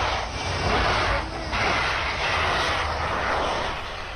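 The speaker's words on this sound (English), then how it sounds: "That plane skidded to a stop after a landing gear failure." A FedEx cargo plane skids to a stop on a runway at Chattanooga after a landing gear failure, heard as a loud, sustained aircraft roar that swells and ebbs over a few seconds.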